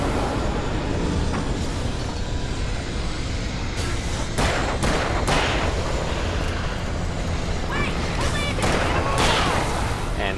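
Flare gun blasts and explosive bursts boom through a loud, dense nighttime fight in the video game Alan Wake, several heavy reports rising over constant rumbling noise.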